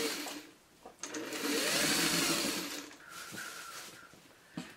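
Sewing machine running a Y seam on a six-panel hexagon-pattern foot stool cover, a steady mid-length whir with brief pauses, close and fairly loud with no talk.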